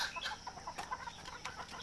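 Desi chickens and roosters kept on a small farm for eggs, with a rooster fight; short clucks and bird calls sound close and repeated over light background noise, without speech.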